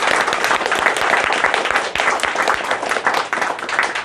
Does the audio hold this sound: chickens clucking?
no